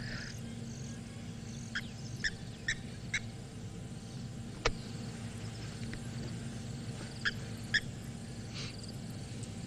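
Birds call repeatedly in short bursts over a constant low wash of ambient noise at a safari waterhole with hippos at sunset, with duck-like quacks and chirps scattered throughout.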